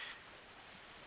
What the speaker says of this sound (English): We have a downpour.